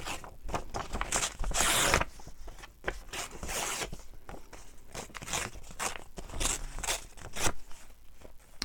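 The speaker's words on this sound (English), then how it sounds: "I was going to fussy cut it, but I think I'll tear it." Paper torn by hand while making Patricia-style envelopes, a run of dry ripping bursts, one longer and louder near the start, close and alone with no talk.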